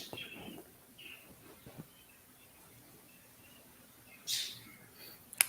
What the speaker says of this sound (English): I can hear some tropical, maybe not tropical, I don't know, Bird. birds.